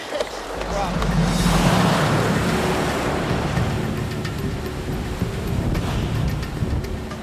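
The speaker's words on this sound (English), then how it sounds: "the waves are bigger out there than they are in here" Ocean surf breaks in steady, rough waves off the coast of Morocco during an adventure race, with wind buffeting the microphone throughout and people talking over the continuous roar.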